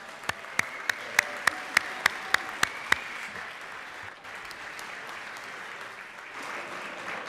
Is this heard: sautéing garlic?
no